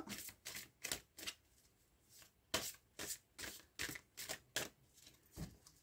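Tarot cards are cut and shuffled in quick, crisp riffling bursts, about a dozen close, fairly quiet flutters in an irregular rhythm with no talking.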